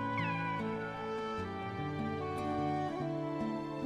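A cat meows repeatedly in Kingdom Hearts 2, near and clear over steady game music with sustained tones, and no one talking.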